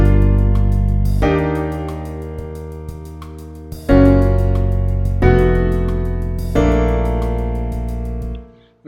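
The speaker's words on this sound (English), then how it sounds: "It's a conventional progression using diatonic chords, modal interchange, and an altered version of a dominant chord" A chord progression of diatonic chords, modal interchange, an altered dominant and a Lydian one chord, played as sustained full chords that change every second or two and ring out close and loud, with no talking.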